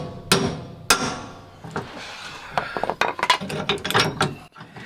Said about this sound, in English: So I just got to get this center bolt out.